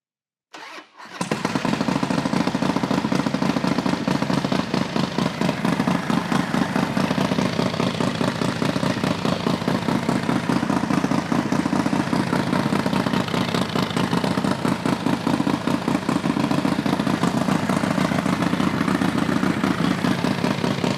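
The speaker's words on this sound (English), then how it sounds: "So I'm gonna go ahead and fire this bike up," A Harley-Davidson Dyna motorcycle, a stunt build, fires up after a short cranking burst and settles into a loud, steady, throaty idle that continues unbroken with no talk.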